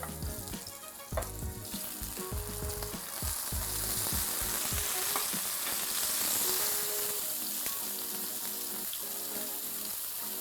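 Onions dropped into about three tablespoons of hot oil in a pan for a ham sandwich, sizzling loudly and continuously, with clatter and a brief knock early on before the frying settles into a dense, steady crackle.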